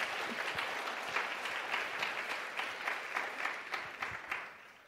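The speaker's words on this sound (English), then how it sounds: "one more round of applause for them, yes" An audience claps steadily and warmly for several seconds, a dense patter of many hands that tapers off toward the end.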